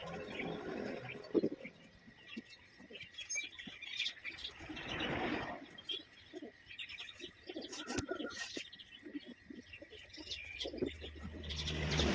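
Caged white pigeons coo and flutter softly amid a busy background of chirps and faint traffic, steady and fairly quiet throughout.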